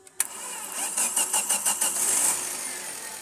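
A FAW V2 car engine is cranked after cleaning: a sharp click, then about six quick rhythmic starter pulses before it catches and settles into a steady idle, close and moderately loud.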